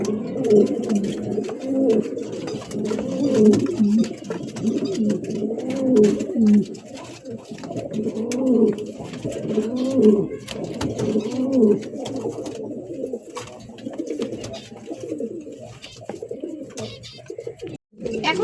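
Black King pigeons, a running pair, coo in repeated rolling phrases close by, a steady rhythm of throaty calls that runs throughout with little else around.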